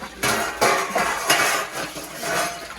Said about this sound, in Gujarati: લંડનથી આવી ગઈ છે વાસણ ધોવા અહીં ચોકડીમાં.